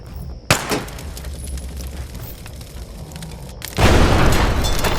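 In the video game Pathogen X, a sudden blast cracks out near the start with a shattering, glassy burst. A rumbling aftermath follows, then a second, louder roaring surge near the end.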